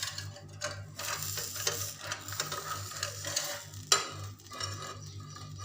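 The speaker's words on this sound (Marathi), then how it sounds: "त्याचा दुसऱ्या बाजूने पण मी भाजून घेते याला" Spinach thalipeeth flatbread roasting on a hot pan, its second side cooking, with a soft steady sizzle, light scraping and occasional utensil clinks close by, no speech.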